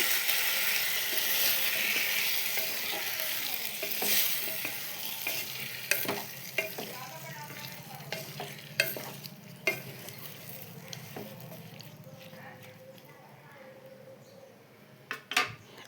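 Tomatoes stirred in a hot pan for tomato mint chutney give a steady loud sizzle at first that fades gradually, broken by repeated scraping and clanking of a spoon against the pan.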